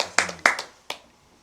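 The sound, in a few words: group clapping hands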